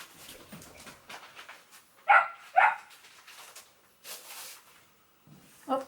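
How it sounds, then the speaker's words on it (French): A small dog, eager to play with another dog, gives two sharp, loud barks close by, with softer whimpers and scuffling noises in between and a final yip at the end. "je suis désolée si vous entendez le petit chien, il veut jouer avec l'Onax et l'Onax il veut pas"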